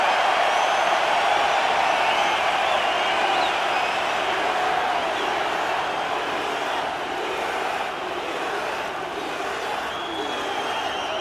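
An arena crowd in the UFC 5 video game roars steadily at a fight night, a broad dense wash of cheering that holds constant from start to finish with no clear voices.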